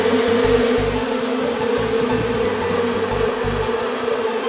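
Honeybees buzzing steadily as they march into a nuc box ahead of a storm, a continuous close hum with low bumps of handling noise underneath.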